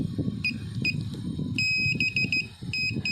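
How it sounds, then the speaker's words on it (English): Electronic beeps from the fingerprint ignition system of a Honda Beat 110 scooter switching on, a few short high tones and then a quick run of repeated beeps over steady low background rumble. "When you hear the beeping, that's the turn on off the motorcycle."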